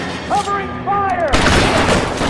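Gunfire in the 1940s Los Angeles crime game L.A. Noire, a sudden burst of loud, close shots that erupts partway through after a stretch of tonal game sound.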